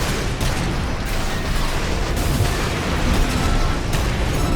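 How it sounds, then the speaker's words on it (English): Gunfire and explosions in a mech combat game: a loud, unbroken wall of blasts and booming impacts with no pauses, dense enough that individual shots blur into one continuous barrage. "The shooting sounds are really satisfying."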